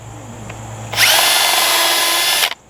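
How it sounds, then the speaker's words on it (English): A power drill bores holes in wooden cross members for a mobile chicken coop, one steady loud whine starting after a second of quiet and cutting off sharply near the end. "So I'm just gonna drill those out now."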